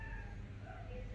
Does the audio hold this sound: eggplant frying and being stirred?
no